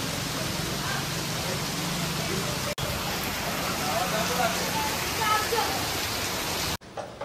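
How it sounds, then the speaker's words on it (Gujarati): Rain pours down outdoors in a steady, full hiss of drops on surfaces, holding an even level before a brief break near the end. "આ વરસાદ રૂકે તો સારું, જેથી કરીને હું બહાર નીકળી શકું."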